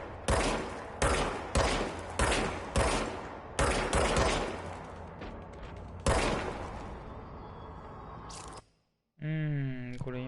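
Loud gunshots from the Control video game crack out in about eight spaced single blasts, each with a short echoing tail. The shooting fades into silence, and then a voice speaks briefly.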